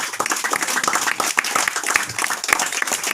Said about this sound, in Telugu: చప్పట్లు కొట్టి దేవునికి స్తోత్రం చెల్లిద్దాం